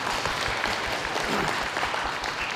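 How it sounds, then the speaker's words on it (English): Convention panel audience at Power Morphicon applauding a guest, a full, continuous round of clapping from a sizable crowd, even and steady throughout with no speech on top. "Everybody, please give a round of applause to Jason, please."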